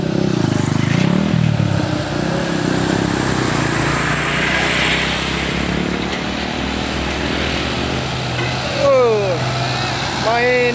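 A Colt Diesel truck labors up the steep Bukit Kodok hill road while being overtaken, giving a loud, continuous engine rumble and road noise that holds steady throughout.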